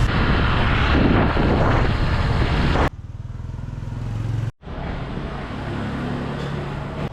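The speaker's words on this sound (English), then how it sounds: "Some festival going on behind us, so that adds even more traffic." Busy street traffic in Ho Chi Minh City during a festival: a loud, continuous engine roar from motorbikes and cars, broken by two abrupt cuts and a quieter stretch in the middle.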